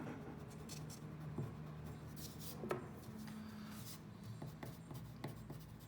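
Marker or chalk scratching across a classroom board in short strokes and taps, moderately close, with a steady room hum underneath and no talking.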